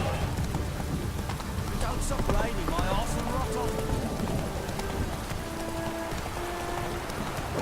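Steady rain from the game The Witcher 3 patters on surfaces throughout, with hoof clip-clop and other game sounds mixed in and speech faintly present.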